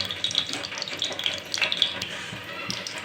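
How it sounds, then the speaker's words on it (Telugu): Cumin and mustard seeds crackling in hot oil in a pan, a steady sizzle dotted with small sharp pops and spits throughout, close and fairly quiet. "ఆయిల్ అయితే ఇలా వేడయ్యాక ఇందులో కొద్దిగా జీలకర్ర ఆవాలు వేయాలి"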